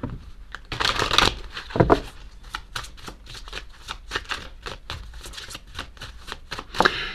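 A deck of chakra cards is shuffled by hand up close, giving repeated riffling, papery flutters in quick bursts with brief gaps between them.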